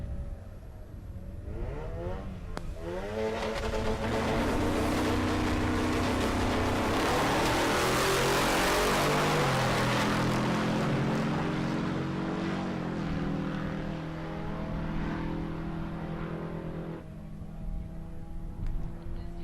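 Drag racing cars, including a Honda, launching at a dragstrip in Great Bend, Kansas: loud, sustained engine roar with rising revs and gear changes, building to a peak midway and then fading as the cars pull away.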